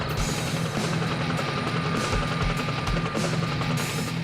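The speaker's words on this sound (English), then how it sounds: "The fire rescue helicopter surveys the scene" A fire rescue helicopter drones steadily and loudly throughout, its rotor thumping in a continuous low rumble with a whining engine tone above it.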